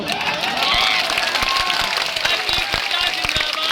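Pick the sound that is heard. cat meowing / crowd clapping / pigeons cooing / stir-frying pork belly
crowd clapping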